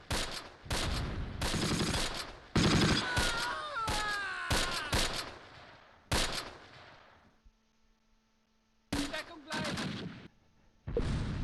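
Gunfire rattles in the World War II video game Close Combat, set in 1944 fog. Sharp shots and short bursts come in quick clusters, separated by a few brief quiet gaps.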